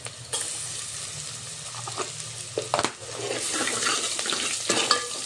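Ginger garlic paste frying in a pan for a quick homemade pasta-style breakfast, a steady close sizzle broken by a few scraping stirs, with no talk.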